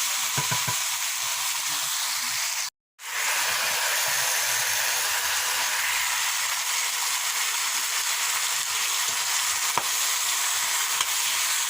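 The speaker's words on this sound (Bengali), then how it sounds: "ভালো করে কষতে হবে" Spiced food sautéed and stirred in a pan in a village kitchen gives a loud, continuous hissing sizzle that cuts out once for a moment, with no talk.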